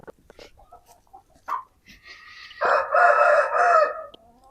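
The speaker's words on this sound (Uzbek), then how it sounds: "Ana xo'roz." A rooster at a pigeon fanciers' loft gives one loud, close crow lasting about two seconds, preceded by softer clucks and scattered background noises.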